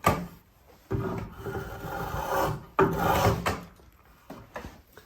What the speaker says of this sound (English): cut another bevel right to the line with the spokeshave